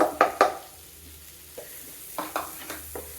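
Chopped onion and green chillies hitting a hot pan with garlic for a creamy prawn dish, giving a quiet sizzle with a few soft stirring scrapes and taps spread across the moment.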